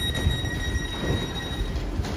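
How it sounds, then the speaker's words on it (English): A passenger train sits at a station platform on the line toward Bedford, its low rumble and steady hum running loud and close, with thin high-pitched tones held over the noise and no voices. "We have just got off this train here. It's heading on to Bedford."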